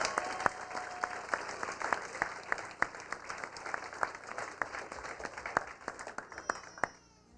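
Wedding reception guests at L'Auberge Del Mar in San Diego applaud the maid of honor and best man, a sustained round of distinct, fairly close claps that tapers off at the end.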